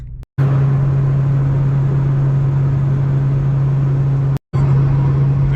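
A Honda Del Sol under restoration, driving with a steady, loud engine drone and a constant low hum inside the cabin, interrupted by two brief dropouts.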